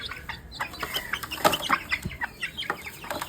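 Chickens cluck and squawk close by while being caught and moved into a new cage, a busy burst of overlapping calls with wing flutters and no speech.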